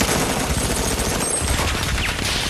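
Continuous rapid gunfire from an AK rifle, a dense near-constant burst of automatic shots filling the whole stretch at steady loudness, with no talk.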